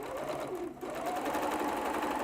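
A sewing machine runs continuously, stitching along a zip with a steady mechanical whir and a brief dip partway through, alone without talk.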